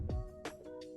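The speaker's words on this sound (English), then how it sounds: "you are going to use a flash whoosh sound effect." A flash whoosh transition effect: a quick falling sweep, then a bright airy burst with a softer echo, all within one second and fairly faint.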